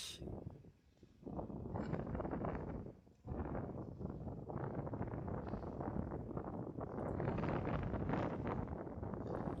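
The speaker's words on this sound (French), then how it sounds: "Comme vous le constatez, beaucoup de vent." Strong wind roars and buffets the microphone outdoors at a pétanque match, a continuous loud rush with brief dips and no voices.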